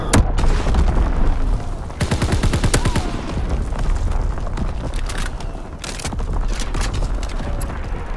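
Artillery battery fire and explosions sound in the Call of Duty WWII game, with heavy booms and rapid gunfire crackle blended into a dense, loud battle din that runs the whole time.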